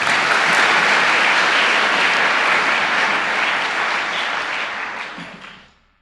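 A church congregation applauds at a worship service, dense sustained clapping that carries steadily and then fades out over the final second, with no voices above it.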